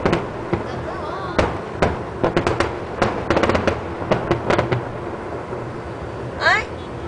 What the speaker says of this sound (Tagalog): Ito ang fireworks nila.